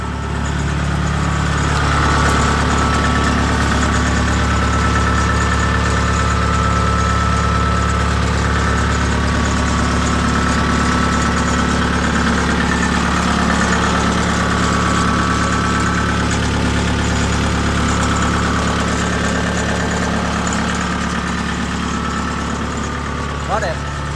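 Kubota DC70 Plus combine harvester engine idling steadily, a loud continuous low mechanical rumble with droning harmonics held throughout, close by, with talk over it.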